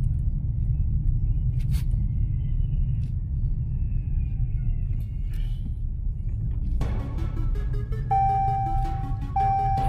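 A Jeep Cherokee with brake pulsation rolls along on a test drive, a steady low interior road rumble throughout, with a chime and a faint beeping warning tone joining near the end.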